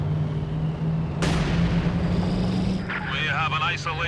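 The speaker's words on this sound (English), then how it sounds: "the double mortars, huh?" Double mortars fire in the real-time strategy game Company of Heroes 2: one sharp, loud launch thump rises above steady battlefield rumble and hum, with voices talking over the later part.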